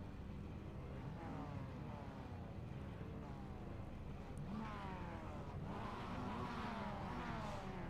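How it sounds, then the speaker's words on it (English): Mazda MX-5 engines rev and climb in pitch at the start of a sim race at Oulton Park, several overlapping whines rising together in a steady, loud mechanical drone. "You can hear the revs rising"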